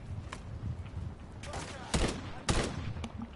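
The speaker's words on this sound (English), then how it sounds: "this gun recoil is crazy" Bursts of gunfire from a weapon in the Modern Warfare 3 campaign, several sharp shots and short volleys over a few seconds, close and loud, with faint background game noise.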